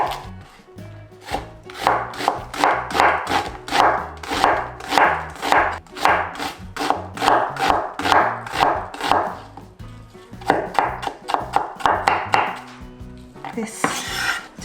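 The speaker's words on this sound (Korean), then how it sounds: "양파 210g 돼요. 다져줄게요." A knife chops onion on a cutting board in a home kitchen, a fast run of loud, close, rhythmic taps that continues steadily with a brief pause midway and a scrape at the end, with no talking.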